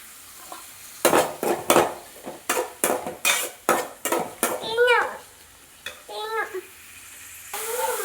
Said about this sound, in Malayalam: ഇത് നല്ലോണം ഒന്ന് വയറ്റി കൊടുക്കാട്ടോ